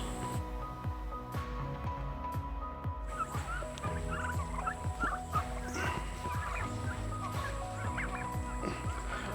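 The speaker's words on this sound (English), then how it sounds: "we're moving our chickens onto fresh grass" Poultry on fresh grass in an outdoor pen give repeated gobbling, clucking calls at moderate distance, overlapping in a busy, irregular chorus over faint background noise.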